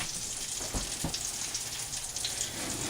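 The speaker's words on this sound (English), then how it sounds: "Can you hear them sizzling?" Steady crackling sizzle of cheddar-stuffed, bacon-wrapped jalapenos frying, with a couple of louder pops, close by and continuous with no talking.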